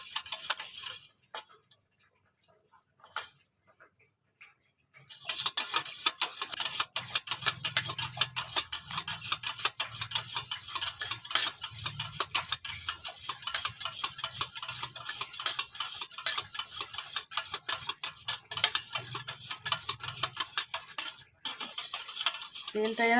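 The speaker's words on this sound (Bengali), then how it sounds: "এবার এটাকে ভালো করে দুধের সঙ্গে মেশাবো, ভালো করে একদম তেল দুধের সঙ্গে মিশিয়ে দেবো।" A spoon stirs oil and milk together in a bowl for a semolina cake, clinking rapidly and steadily against the sides after a few quiet seconds and continuing evenly to the end.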